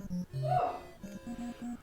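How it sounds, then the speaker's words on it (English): A dog in the Paperboy's Adventure video game barks in short, synthesized electronic yips, a quick series of tonal bursts at modest volume. "Ah, the fucking dog."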